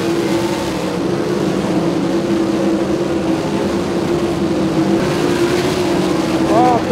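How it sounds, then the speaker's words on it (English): 410 sprint cars roar around the Lincoln Speedway dirt oval during a feature race, a steady, loud engine drone for the whole stretch with a race announcer talking over it. "Dietrich and Hogue will race for the lead"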